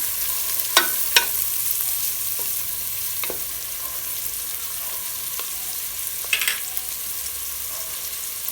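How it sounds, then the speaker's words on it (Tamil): Chopped onions sizzle in sesame oil in a pan for seeraga samba mutton biryani, a steady hiss of frying broken by a few sharp scraping stirs, close by and with no speech. "வெங்காயம் கொஞ்சம் வதங்கட்டும்"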